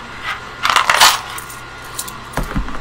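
Quarters and other coins clink as they drop into small cash-stuffing savings fund containers, a few quick metallic rattles near the start and a couple of heavier clunks at the end, close and fairly loud in a quiet room.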